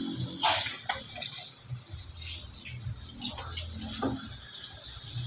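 Water runs steadily from a kitchen faucet at moderate volume, with small splashes and clinks as something is rinsed under it.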